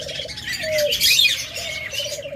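Lovebirds offered for sale chirp and tweet in short, fairly close calls over a low background hum, with a few sliding whistled notes.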